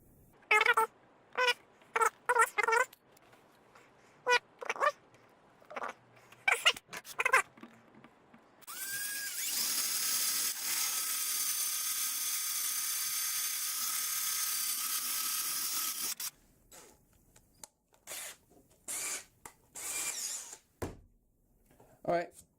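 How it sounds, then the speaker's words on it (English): A power drill bores steadily through a stack of beams clamped together in a vise, a continuous whine lasting several seconds, framed before and after by speech and scattered handling knocks. "I'm just going to clamp them in the vise and drill them all together"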